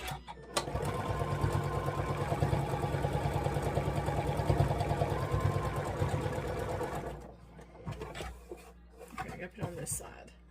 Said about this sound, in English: we are going to sew these little units together